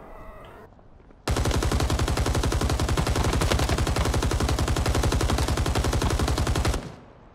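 Sustained automatic gunfire in Rising Storm 2: Vietnam during close-quarters fighting in Hue: a dense, rapid, loud burst that runs unbroken for about five and a half seconds after a short quiet lead-in, then cuts off abruptly.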